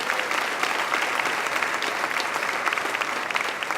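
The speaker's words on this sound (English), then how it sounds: "Give all those media teachers a round of applause." Steady, dense applause from an audience at a 2017 WILLCO awards show, honoring a group of media teachers; continuous clapping throughout with no pauses or voices standing out.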